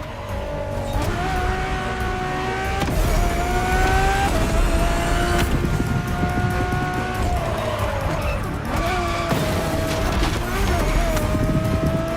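A Ferrari road-legal hypercar in a racing video game, with a steady loud engine note rising and falling through gear changes and short squeals of the tires over continuous engine drone.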